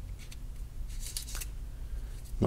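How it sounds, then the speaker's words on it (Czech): The battery of an HTC Legend phone is slid out with a few faint, quick plastic scrapes and clicks, heard close up over a quiet hiss. "Ta baterie se vysouvá takto."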